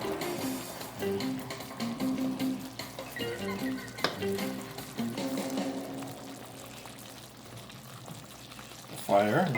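Pork shoulder with pineapple and melted sugar steam-cooks in a covered pot over a low flame, giving a steady soft simmer and gentle sizzle beneath continuous tonal background sound.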